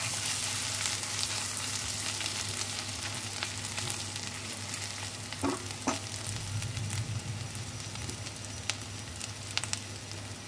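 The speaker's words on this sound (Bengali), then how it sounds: "সব একসঙ্গে খুব ভালো করে নাড়াচাড়া করে নেব" Grated ginger and spices stirred in a hot frying pan, giving a steady close sizzle with occasional light scrapes and taps of the spoon against the pan.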